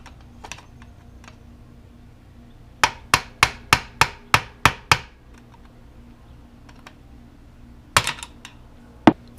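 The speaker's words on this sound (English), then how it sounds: "take the screwdriver and the hammer and just hammer that pin all the way on" A rapid series of sharp metallic hammer strikes driving a pin via a screwdriver on a motorcycle shift lever, eight evenly spaced blows, then a pause and a few more taps, close and loud.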